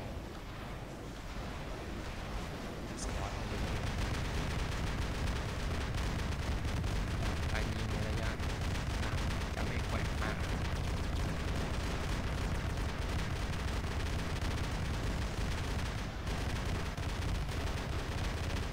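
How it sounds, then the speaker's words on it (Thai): A heavy prototype weapon fires in the War Robots video game, giving a dense, continuous roar of rapid gunfire and blasts. It starts quieter, then holds loud and steady for most of the stretch. "จะยิงใหม่ๆครับ"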